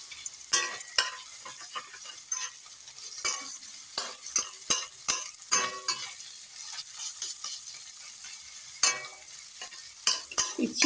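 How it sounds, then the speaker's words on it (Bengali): Ginger-garlic paste fries in a pan for chicken bharta under a soft continuous sizzle, with frequent sharp clicks and scrapes of a spatula stirring against the pan throughout. "মিনিট 3-4 ধরে ভেজে নেব, যাতে আদা রসুনের কাঁচা গন্ধটা চলে যায়।"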